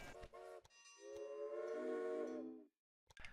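A steam train whistle from the Railway Empire railroad game, preceded by a few short clanks, then one sustained, clear whistle blast of about a second and a half that cuts off into silence.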